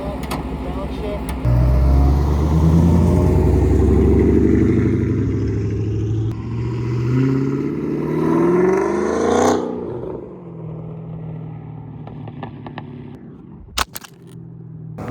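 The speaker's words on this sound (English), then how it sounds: "Couple revs for you. Now I'm gonna just pull that way and then come down, downshift." Dodge Hellcat V8 revving loudly up close, a deep rising and falling roar that climbs then drops back as it downshifts, settling into a lower idle rumble with a clunk near the end.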